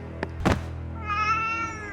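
A cat meows once in a clear, drawn-out call on a staircase. A couple of brief thumps come just before it.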